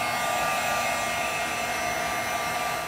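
A hair dryer runs steadily and close up, drying a glittery handmade spring card with an even, unbroken whoosh throughout and no voices.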